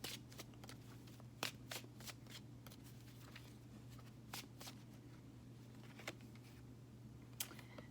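Tarot cards shuffled by hand in a quiet room, a steady soft riffling with sharper slaps and clicks scattered through it, close and fairly quiet over a low steady hum.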